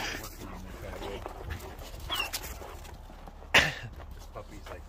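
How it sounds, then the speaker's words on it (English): A puppy pants close to the mic on a hot summer day outdoors, with quick rough breaths, a few sharp rustling bumps, and people talking in the background. "This puppy's like all over here."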